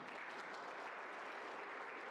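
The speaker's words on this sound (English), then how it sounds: "Once again, applause." An audience applauds at a public health talk with a steady, dense wash of clapping that holds at an even level throughout, with no voices over it.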